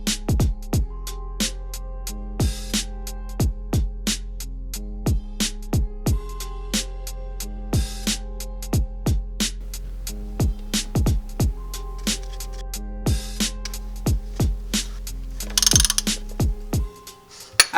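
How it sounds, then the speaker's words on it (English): A ratchet with a 24mm socket works the transmission drain plug on an FD RX-7, giving a long run of loud, close clicking strokes in uneven bursts with short pauses, and a heavier clunk at the end. "we're going to move on to the drain plug. And this is a 24mm socket."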